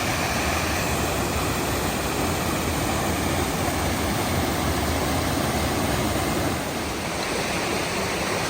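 Rough Butt Creek Falls in Jackson County, North Carolina, roars with a steady, loud broadband rush of falling water and no breaks or other sounds.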